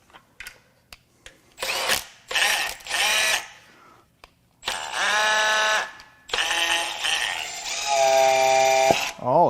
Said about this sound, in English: Let's just test this pump a little bit.